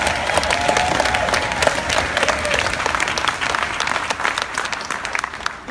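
A crowd at a motivational speech in Jamaica gives itself a round of applause, a dense, loud burst of clapping with scattered sharp claps that continues steadily for nearly six seconds.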